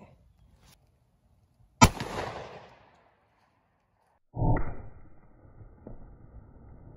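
A single sharp, loud shot from an XDM 10mm pistol with a 4.5-inch barrel firing 165-grain V-Crown ammunition into ballistics gel, with a ringing decay, then a second duller burst of noise a few seconds later, no talking.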